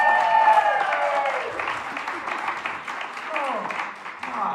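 Audience clapping at an amateur theatre production of Shakespeare's Much Ado About Nothing, a fairly loud wash of applause mixed with cheers and voices that gradually eases off.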